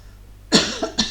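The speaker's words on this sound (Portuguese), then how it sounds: "Eu vou tossir de novo, me desculpem." Three quick coughs from a lone speaker, one loud burst followed by two shorter ones, close and dry after a moment of near silence.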